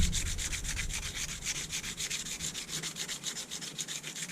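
A knife handle is sanded by hand in a quick, even back-and-forth rhythm of gritty rasping strokes, close and steady throughout.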